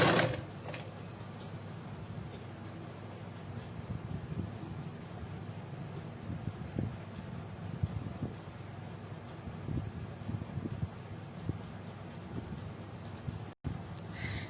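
A sewing machine runs at an even pace while a kurti is stitched, its soft mechanical whir fairly faint and steady with small clicks throughout and no voices present.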